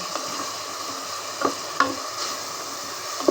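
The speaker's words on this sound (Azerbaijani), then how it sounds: "Hal-hazırda soğanı qazanda öldürürəm." Onions frying in a pot for a cauliflower dish, a steady close sizzle with a few soft stirring knocks against the pot.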